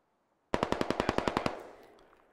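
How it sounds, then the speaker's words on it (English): Video game machine gun fire, a rapid burst of about ten loud evenly spaced shots that cuts off and leaves a fading reverberant tail. "Vortex Man, getting shot up here pretty badly."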